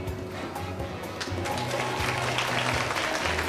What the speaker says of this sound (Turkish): Neyi alkışlıyor bunlar be?